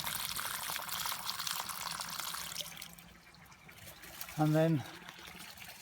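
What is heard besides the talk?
water flowing through pond filter back into the pond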